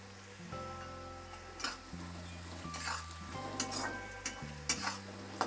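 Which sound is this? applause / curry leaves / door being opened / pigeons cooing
curry leaves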